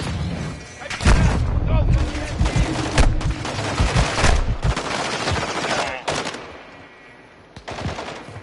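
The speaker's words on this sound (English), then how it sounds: "Taking effective fire." Bursts of automatic gunfire and booming shots in the shooter video game Call of Duty MW2, loud, irregular volleys separated by brief lulls, with voices talking in between.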